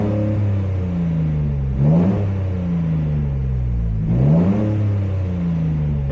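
A Toyota GR Corolla with a fault, only 2300 miles on it, revs in repeated sweeping pulls, engine tone rising and falling twice with a roaring surge each time, steady loud drone in between.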